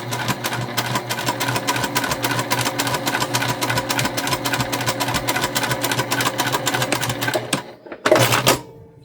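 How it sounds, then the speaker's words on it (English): Sewing machine stitching a seam on a holiday make-up bag, about 1/8 to 1/4 inch from the edge, running in a steady rapid rhythmic chatter for most of the clip, then stopping, followed by a short burst of handling noise. "we're stitching about a little between 1/8 and 1/4 for our first row here"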